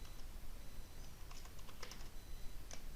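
Quick clusters of key clicks on a computer keyboard while C code is typed, with irregular bursts and pauses over a steady low hum, close and fairly soft.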